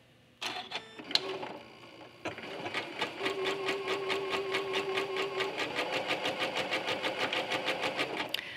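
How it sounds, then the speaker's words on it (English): A sewing machine stitches leftover quilt batting pieces together, its needle running in a fast, steady rhythmic chatter close by, with a brief start and pause before settling into continuous stitching. "Just simply start sewing, keeping that batting nice and flat."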